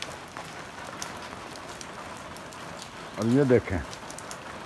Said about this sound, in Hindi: थोड़ी सी बारिश हल्की हुई है